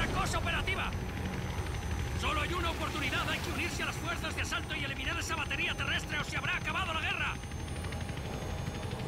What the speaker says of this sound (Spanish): Bueno, el helicóptero va a aguantar.